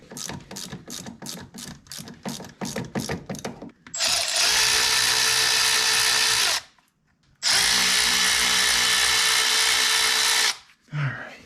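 A power tool fitted with a 10mm socket removes boot bolts from a 2003 Polaris RMK 800 snowmobile, starting with a run of ratcheting clicks and then two long, loud, steady whirring bursts separated by a short pause.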